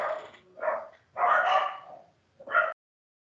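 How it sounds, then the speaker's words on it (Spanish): A dog barks several times nearby, three or four sharp, separate barks with short pauses between them, no talking. "estaban ladrando bien feo"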